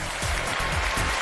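A studio audience on a Chinese relationship talk show claps, a short burst of dense, even applause heard alone.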